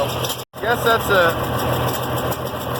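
An IH Farmall 706 tractor engine with a new carburetor runs at a steady idle, a close, continuous rumble with someone talking over it.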